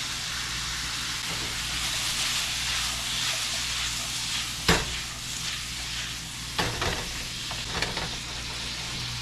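Hubbard squash with honey and cinnamon cooking in a pan on a stovetop, a steady close sizzle and hiss broken by a few spoon scrapes and taps, with no talk.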